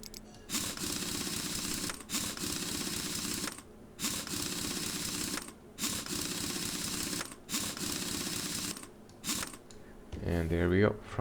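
Car Mechanic Simulator 2021 wheel fitting: repeated bursts of mechanical ratcheting, like a wheel being bolted on, in regular segments of about a second and a half separated by short gaps, with a brief different sound at the end.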